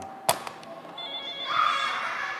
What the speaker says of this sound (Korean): 아, 또 전화가 오네요.